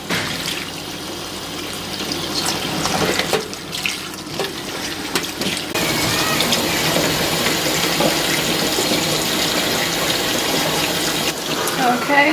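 Pickling vegetables for old-fashioned mustard pickles rinsed under a running kitchen sink tap, a steady broadband water rush with some clatter and shifting splashes, continuous and fairly close throughout, with no talk over it.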